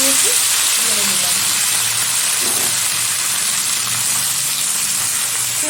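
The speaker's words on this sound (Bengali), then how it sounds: "খুব ভালোভাবে নেড়ে চেড়ে ভেজে নেব" Kharkol leaves and poppy seeds frying in hot oil, giving a continuous loud sizzle and hiss with light stirring clatter and a voice speaking faintly underneath.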